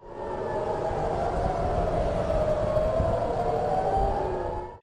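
Air raid sirens wail over Tel Aviv during an Iranian missile attack, a sustained, slowly wavering tone holding at steady volume for several seconds before cutting off.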